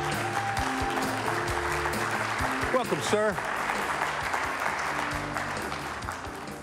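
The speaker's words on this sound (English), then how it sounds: "How about a big round of applause for this gentleman," A studio audience at a live morning show claps steadily throughout, with music playing and someone briefly speaking over the applause.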